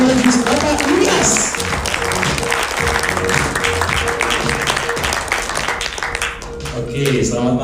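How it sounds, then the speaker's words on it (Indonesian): An audience at an evening meet-and-greet business event claps steadily and densely, giving sustained applause to welcome a speaker to the stage; a voice announces over it at times. "Mari kita sambut dengan luar biasa, dengan tepuk tangan yang luar biasa"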